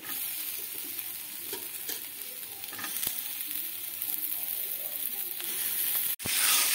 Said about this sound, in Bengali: এখন আমি ফুলকপি আর যে সবজিগুলো রেখেছিলাম সেগুলো দিয়ে দিচ্ছি এর উপরে।